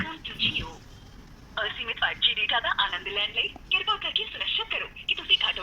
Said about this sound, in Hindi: कीपैड से मैं एक नंबर डायल कर लेता हूँ